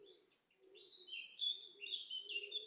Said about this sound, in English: a beautiful bird song.